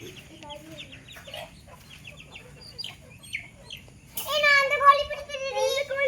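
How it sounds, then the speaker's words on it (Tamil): Chickens cluck and squawk as children chase them in a village yard, soft scattered clucks at first, then a loud burst of excited squawking near the end, with children's voices in the background. "ஏய் போங்கடி, போய் கோழி பிடிங்க."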